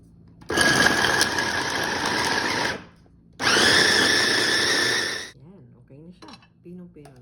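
Two loud, close bursts of a blender grinding almonds into a fine powder, each a couple of seconds long with a short pause between, followed by a brief stretch of talk.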